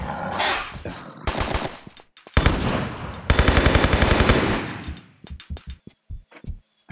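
Gunfire in the game Tomb Raider 3 in a South Pacific level, with loud rapid bursts of shots, then a long rattling volley and a string of separate single shots that trail off.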